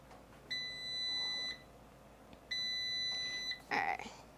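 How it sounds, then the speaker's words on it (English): A Ninja Foodi or Power XL air fryer cooking fried chicken sounds three electronic beeps: two long, steady one-second tones, then a shorter, louder burst, clear against a quiet kitchen with no talking. "So it beeps 3 times."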